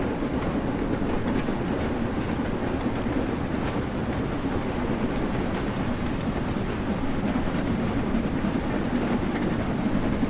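A steam train in Train Sim World 2 runs on the Liverpool to Crewe line, a steady continuous rumble of wheels and track clatter picking up speed for the full stretch, with no talk.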